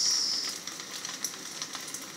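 Rice frying in a pan with turmeric powder, a steady soft sizzle and crackle with faint scattered pops, close but fairly quiet, with no one talking.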